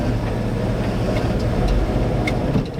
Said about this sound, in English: Oh, it's idling so much better now.